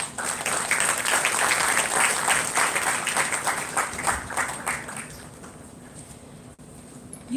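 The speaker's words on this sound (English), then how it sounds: "With a huge round of applause, let us all welcome them amidst us." A large crowd gives a sustained round of applause welcoming guests at a university event, dense steady clapping that fills the hall for about five seconds and then tapers off into scattered claps and room murmur.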